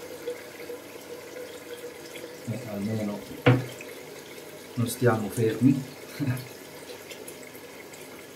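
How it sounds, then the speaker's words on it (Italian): A tap fills a small basin while a razor is rinsed, leaving a steady, faint watery hiss in the background under a person's talking and a sharp clink or two. "Nel frattempo che qua si riempie la vaschetta, noi andiamo a sciacquare il rasoio"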